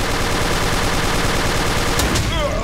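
Loud, continuous automatic gunfire from an online team shooter rattles without pause at close range, with a brief high zip near the end and faint talk underneath.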